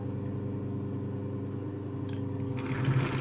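A sewing machine stitches fabric at a steady, continuous mechanical hum with a rapid needle rhythm, running close and alone, growing slightly louder and brighter near the end.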